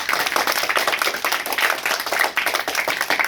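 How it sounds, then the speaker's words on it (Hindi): A group of children claps together in a classroom, a dense run of quick, close handclaps held steady for a few seconds. "सब ताली बजाओ ना जी।"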